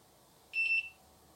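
A single short, high-pitched electronic beep sounds once against quiet background hum.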